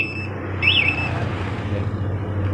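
A Kawasaki Ninja motorcycle's aftermarket alarm gives a short, high warbling electronic chirp when the bike is moved, sounding once over a steady low hum.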